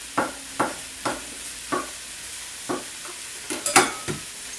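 Mushrooms for a vegan chowder are stirred in a pot with a spoon, about ten distinct scraping strokes in an uneven rhythm over a faint cooking hiss, close and clear.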